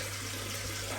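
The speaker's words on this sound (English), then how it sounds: "So I'm going to fill the filter up now," Water pours steadily into a koi pond filter, a continuous dense rushing and splashing with a low hum beneath, close and even throughout.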